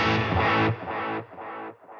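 Distorted electric guitar with delay and reverb routed in parallel: a loud initial note followed by several distinct, drier repeats that step down in volume.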